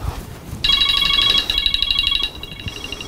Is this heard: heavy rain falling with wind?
no